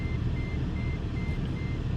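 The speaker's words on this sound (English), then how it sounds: "Why is my car beeping and not stopping?" A car sounds a repeating electronic beep in a steady rhythm, high and fairly clear over a heavy rumbling low background.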